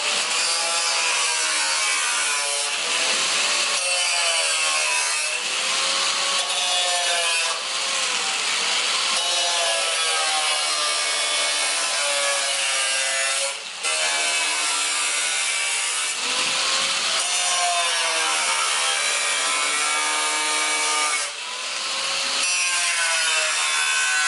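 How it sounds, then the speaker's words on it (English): Repeated rasping saw strokes cut a notch and a square opening in a part during a wing install on a bagged G35, loud and close with short pauses between bursts. "we're gonna have to cut a notch out of here and then a square out right here."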